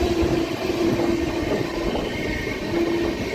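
The 22618 Intercity Superfast Express from SMVT Bengaluru to Tirupati rolls along its rails during a full turn, giving a continuous loud rumble with a faint steady whine, heard from on board; no talk.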